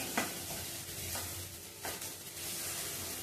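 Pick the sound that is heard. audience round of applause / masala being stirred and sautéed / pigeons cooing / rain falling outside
masala being stirred and sautéed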